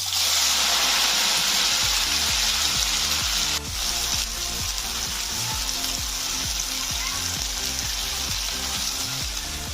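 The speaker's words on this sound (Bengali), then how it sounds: "এবার আমি ঢ্যাঁড়সগুলো ভেজে নেবো" Okra fries in about three spoons of oil in a wok over a gas flame. A loud, continuous, close sizzling hiss runs throughout, with a faint regular low thumping beneath it.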